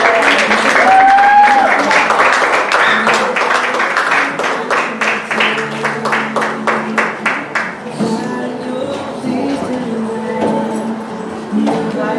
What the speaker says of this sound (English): Church, can we just give them a big round of applause?